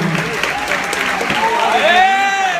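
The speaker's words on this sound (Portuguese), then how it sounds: "Mais palmas, irmão." Audience applause at a Méliuz finalists' event in Belo Horizonte, steady clapping filling the room while voices talk and shout over it.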